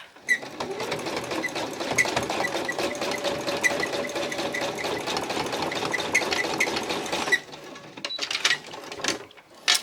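A sewing machine stitches decorative lines through a paper topper for a vintage tag or card, a steady close-up mechanical whirr running for about seven seconds before stopping, followed by a few short bursts.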